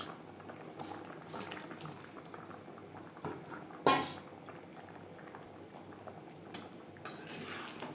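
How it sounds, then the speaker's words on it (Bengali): Fish curry gravy for Rui macher jhal bubbles at a steady boil in a pan, a soft continuous simmering texture with a brief louder clink of utensil or pot partway through; no talking. "গ্রেভি বেশ ভালো করে ফুটতে শুরু করে দিয়েছে"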